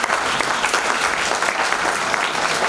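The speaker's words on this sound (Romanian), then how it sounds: "vreau să aplaudăm încă o dată întreaga echipă" Audience applause fills the hall at the official opening of a film festival in Moinești, Romania: dense, steady clapping from a crowd, loud and continuous throughout with no voices on top.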